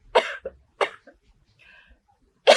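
Several short, harsh coughs close up, spaced irregularly with quiet pauses between them.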